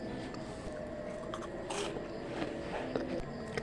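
Crisp bites and crunching of eggless, crunchy, savory cookies, with several sharp cracks and crumbly scraping close up over a low, steady background.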